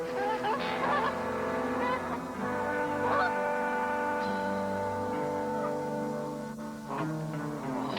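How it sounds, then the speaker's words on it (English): Wild geese honking repeatedly, a gander and his mate calling from a confining barnyard pen, loud and close, with overlapping harsh honks throughout. "The goose is a bird that cannot spring into the air as certain ducks can."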